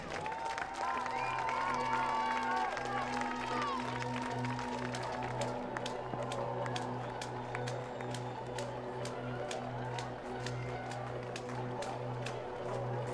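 Crowd applause and cheering at the finish line of the 2022 Copenhagen Half Marathon, where women runners in the Danish championship cover the final meters. Steady, dense clapping and cheers run throughout, with an amplified announcer's voice and music underneath.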